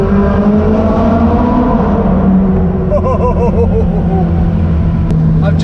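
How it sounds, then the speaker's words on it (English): Ferrari 458 Spider driving on roads around Las Vegas, its engine a steady loud rumble throughout with a rising rev partway through, close and continuous. "now driving a Ferrari 458 Spider"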